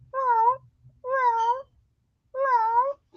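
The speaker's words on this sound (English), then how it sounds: "She like does this little meow with it." A cat gives three short, clear meows at an even pace, each about half a second long with a gap between, close by and in otherwise quiet surroundings.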